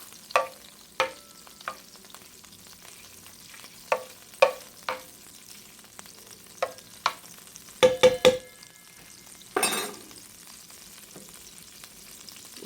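Butter sizzles and crackles in a hot pan, a quiet bed of frying punctuated by sharp clicks and brief louder bursts, with no talk.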